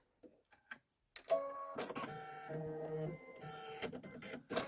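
An embroidery machine stitching down quilt batting, starting after a few soft clicks, then a rapid, rhythmic mechanical stitching hum, close and steady.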